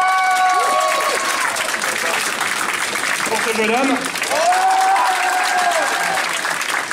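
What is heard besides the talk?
audience applause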